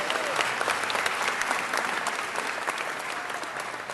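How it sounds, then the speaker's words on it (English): Loud, sustained applause from a city council meeting crowd honoring Tommy Lasorda's birthday, dense and continuous clapping filling the room with faint voices mixed in underneath. "Let's give Mr. Tommy Lasorda another big round of applause."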